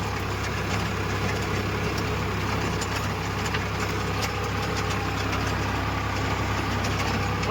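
A tractor engine runs steadily while working a rotavator in a field on a windy day, a constant close drone with a low mechanical rumble and a rough idling quality throughout, no voices.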